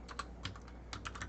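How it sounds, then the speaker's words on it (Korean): Quick keystrokes on a computer keyboard come in two short bursts of light, crisp clicks separated by a brief pause, close and clear against a quiet background. "제가 밑에 다시 한번 타이핑을 해드리면"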